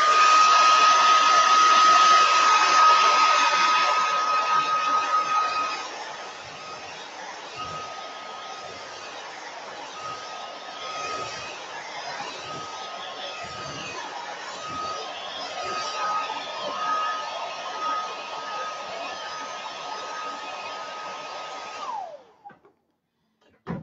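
A hair dryer blows on green paint on a handmade Christmas moose craft, giving a steady, close whirring hiss that runs for about twenty seconds before switching off.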